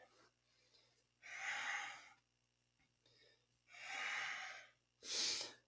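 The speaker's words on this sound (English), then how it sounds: "And we begin with a breathing exercise." Kundalini yoga breathing exercise from Surya Kriya: three long, forceful breaths, each lasting about a second, separated by quiet pauses, close and breathy over a faint steady hum.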